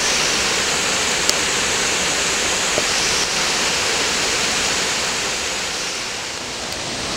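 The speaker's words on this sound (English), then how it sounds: "Check out this awesome little cascade and pool though." Steady rush of a small creek tumbling down a cascade into a pool near Bandy Creek Falls, Big South Fork, Tennessee, a continuous broadband roar close by with no voices.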